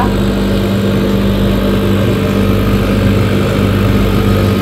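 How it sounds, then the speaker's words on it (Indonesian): A CNC laser cutting machine runs in a university CAD/CAM lab with a steady, loud, unbroken mechanical hum and drone of motors and fans, no voices over it. "ini tuh mesin CNC laser kita"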